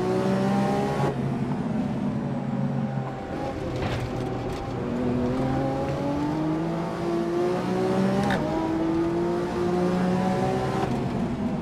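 Lamborghini Aventador SV supercar engine in Assetto Corsa, revving hard with rising gear-by-gear pitch sweeps and sharp shift breaks, loud and close throughout with faint tire noise, no talking.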